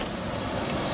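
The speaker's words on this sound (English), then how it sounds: "That little hissing noise you hear is acetylene" Acetylene hisses steadily from a welding torch tip, a constant broadband rush at close range for about a second with no talking.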